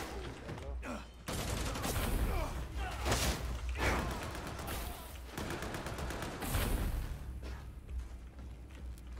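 Rapid bursts of shotgun fire from a video game, loud and repeated over busy game effects and music, with a voice shouting game announcements in between.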